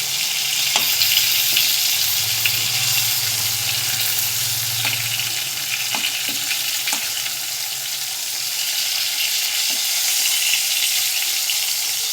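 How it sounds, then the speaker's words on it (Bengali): Pointed gourd pieces fry in a pan after being turned, giving a steady, loud broadband sizzle that runs unbroken throughout, with a few faint clicks of movement and no speech. "এবারে পটলগুলোকে আমি এক পিঠ উল্টে দেবো।"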